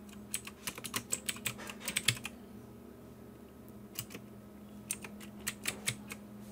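Password being typed on a computer keyboard while setting up a Linksys WRT3200ACM router, heard as quiet, close key clicks in uneven bursts over a low steady hum.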